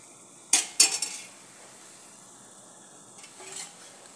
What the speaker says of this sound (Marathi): भाजी चांगली तेलामध्ये परतून घेतली।